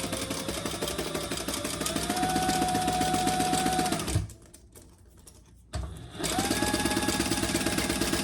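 A sewing machine stitches black zipper tape with silver teeth at a scant quarter inch, running in a fast, steady mechanical whir up close, pausing briefly to near quiet before starting again, with no talking.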